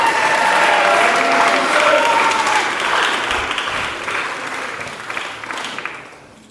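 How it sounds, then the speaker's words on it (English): A crowd at a Brisbane climbing competition applauds the podium winners. The loud, dense clapping holds steady, then slowly thins and fades toward the end. "let's give them one more round of applause"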